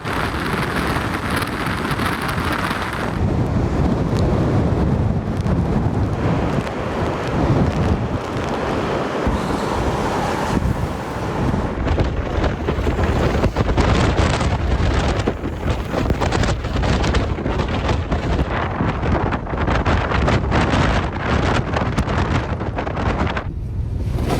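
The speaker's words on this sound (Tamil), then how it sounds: "கடல் அலை சீற்றத்துடன் காணப்பட்டது." Strong gusting wind, reported at about 87 km/h, roars continuously across the microphone while rough sea waves crash and surge beneath it, loud and steady for the full length with no voices.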